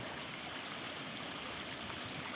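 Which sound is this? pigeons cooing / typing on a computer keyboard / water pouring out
water pouring out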